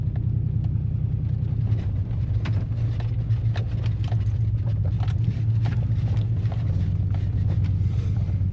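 A truck crawls along a muddy canyon track in New Mexico, its engine giving a steady low rumble throughout with scattered knocks and splashes over the top and no talking.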